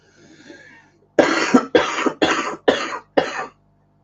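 A man with a cold coughs five times in a quick, harsh series, close and loud, after a quiet stretch of faint background noise.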